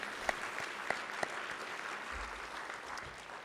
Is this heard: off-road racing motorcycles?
no